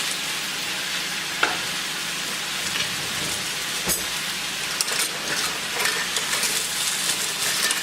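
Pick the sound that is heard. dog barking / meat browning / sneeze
meat browning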